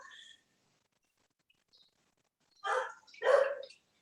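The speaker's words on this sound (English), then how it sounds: "My dog's barking in the background." A pet dog barks twice in the background of a home kitchen, two short muffled bursts close together after a near-silent stretch.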